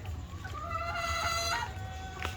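Chickens in a cramped backyard pen where the hens have begun laying, heard as a near, steady clucking and drawn-out calls over a low rumble of background noise, with no talking.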